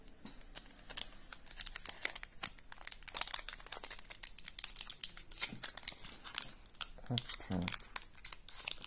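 Crinkly plastic foil of a Pokémon card booster pack being torn and rustled open, a run of sharp close crackles and rips beneath a person speaking French.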